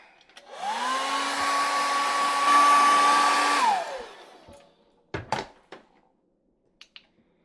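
Hair dryer blowing on a freshly painted homemade fishing lure, a steady close whirring roar for about three seconds that rises and then winds down, followed by a few small knocks.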